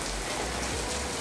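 Rain falls steadily on a rooftop, a dense, even hiss of drops with no breaks and no voices.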